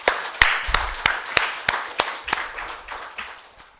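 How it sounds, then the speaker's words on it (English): Keynote audience at a Schneider Electric event clapping, a run of about a dozen sharp, evenly spaced claps that thin out and fade over a few seconds. "I think that deserves a big round of applause."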